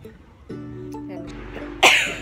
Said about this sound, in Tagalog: Medyo inuubo at sinisipon ako ngayon.